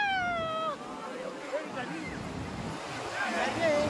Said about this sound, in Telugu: అలలు అలలు అలలు వస్తున్నాయి చూడండి